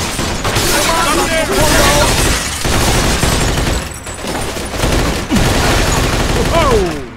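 Dense gunfire rattles through a Mafia II shootout, loud and close, with overlapping shots and bursts in near-continuous volleys and brief lulls between them.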